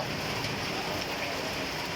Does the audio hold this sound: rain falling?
yes